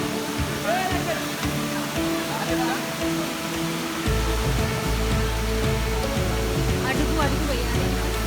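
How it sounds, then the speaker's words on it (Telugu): The waterfall at Ananthagiri Hills in Vikarabad rushes as a steady broadband roar heard close by, while people talk over it. "వాటర్ ఫాల్స్ చూడు."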